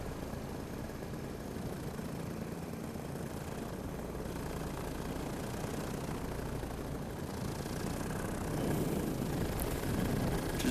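Paramotor engine idling in flight over Monument Valley, a steady low rumble blended with wind rush at moderate level, swelling slightly toward the end.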